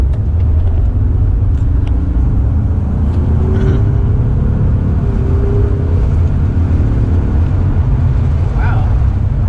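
A 2019 EcoBoost Mustang with a 10-speed transmission accelerates through traffic, its engine a loud, steady rumble heard from inside the cabin with a gradual rise in pitch.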